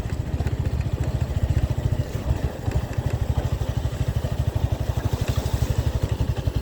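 Motorcycle engine thrums with a fast, rhythmic pulse while riding a rough, rain-soaked bad road at night, close and fairly loud, with occasional clattering thumps and no voices.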